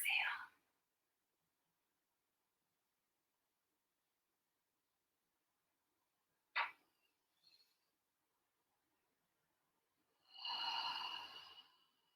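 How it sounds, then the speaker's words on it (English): A slow, deep breath during a guided yoga session, drawn in and let go, heard as a soft airy rush at the start, a brief sharp intake mid-way, and a longer breathy exhale near the end, with silence between. "Two more beautiful breaths, drawing all that prana and energy into the body"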